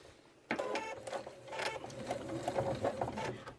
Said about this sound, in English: now you're going to sew the folds down.